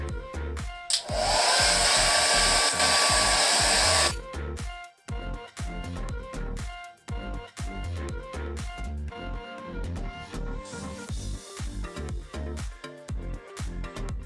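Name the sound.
hair dryer drying hair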